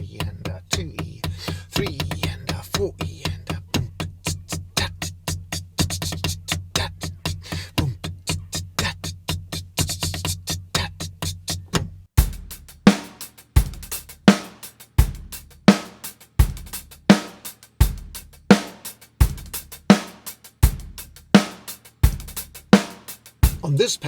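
A hi-hat groove on a drum kit with bursts of 32nd notes moved onto the third beat. It starts as a steady, dense run of hats and changes midway to crisp, evenly spaced hits with kick and snare accents, played alone.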